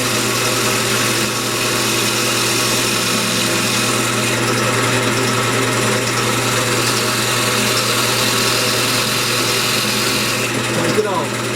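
A wood lathe spins steadily while a tool cuts the tenon off the bottom of a mahogany candy dish, a continuous loud droning whine with a constant hum beneath.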